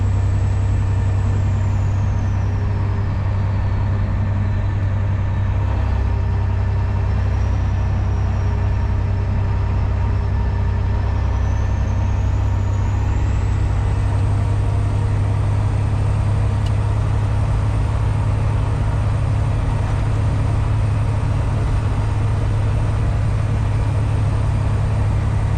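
A semi truck drones along a country road, its low engine rumble and road noise steady and close throughout the stretch with no voices.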